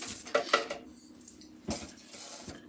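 Wooden spoon scraping and knocking against the jar of a Ninja blender while breaking up dried egg white, a few sharp clinks and scrapes near the start and middle, close and moderately loud.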